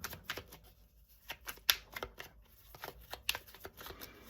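Tarot cards are shuffled close up with quiet, irregular riffling flicks and sharp snaps in uneven bursts over a near-silent background.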